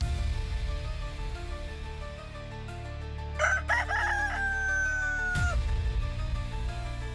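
A rooster crows once, loud and drawn out, over a steady low background hum, followed by a short sharp note as it ends.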